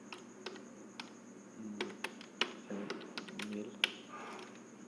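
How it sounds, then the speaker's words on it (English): Someone types on a computer keyboard with irregular, quiet clicks and key taps in short bursts, heard close against a faint steady hum. "I type my friend names here"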